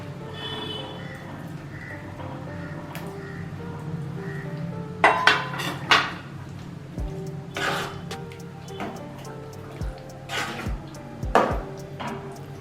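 Paneer and chickpeas are stirred in a pan of masala gravy, with a spoon scraping and clinking against the pan in several sharp knocks over a low steady background.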